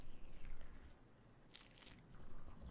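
A wet, crunchy squelch from The Mortuary Assistant horror video game, a short burst of crackling crunch that stands out over a faint low rumble, with no talking.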